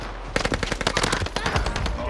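Rapid automatic gunfire from a Call of Duty Vanguard match, loud bursts of close shots starting after a brief quiet moment and continuing steadily with dense rattling repetition.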